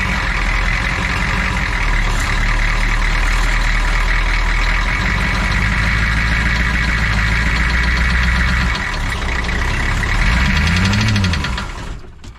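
A rough-running Humvee engine, missing as if on seven cylinders, idles loud and close with uneven knocking, then near the end dips and strains with a falling-rising groan as it is put in gear.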